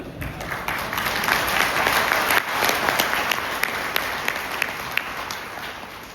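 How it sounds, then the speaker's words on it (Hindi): Large audience applauding steadily throughout an anniversary celebration in India, a dense, loud wash of many hands clapping with scattered sharper claps standing out, no voices over it. "जो सुबह से सिर्फ ताली बजा रहे हैं।"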